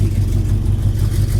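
A 1971 Dodge Charger idles with a deep, steady rumble through its new dual exhaust, loud and close, with a low throbbing pulse and no one talking over it.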